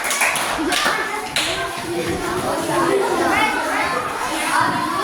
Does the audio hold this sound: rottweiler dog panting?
no